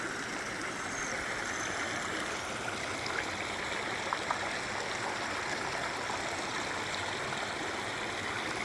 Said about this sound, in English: looks like we can get down to the river here